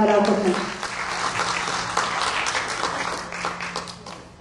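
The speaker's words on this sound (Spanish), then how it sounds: "un fuerte aplauso para la doctora Eliana Elder Aurora Sánchez" Audience applause welcoming a speaker at a labor justice conference, a loud burst of clapping from a crowded room that slowly thins out, with a faint steady hum underneath.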